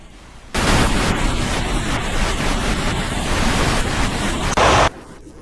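Released dam water rushes as flood water in a loud, broadband roar that starts abruptly, holds steady for about four seconds and then stops, with no voices.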